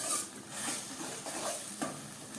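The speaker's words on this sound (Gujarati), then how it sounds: "ડુંગળી નાખ્યા પછી સારી રીતે ફરીથી ચલાવી લઈએ" Chopped onion stirred and sizzling in a pan, a soft continuous fry with the scrape of a spoon swept through it every half second or so, close and with no talking.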